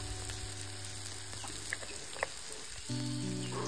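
Onion, tomato and masala sautéing in a pan give a low, soft sizzle with a few faint scrapes and clicks of stirring, close but quiet, and a steady hum comes in near the end.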